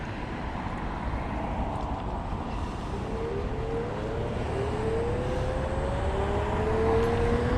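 A low, steady motor hum with a rising whine that glides upward in pitch as the ride speeds up, over constant road and wind rumble.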